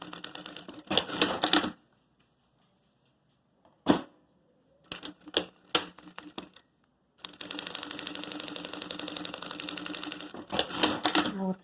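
Sewing machine stitching a makeup case, running in loud bursts with pauses between, then a long steady run of stitching before stopping and starting again.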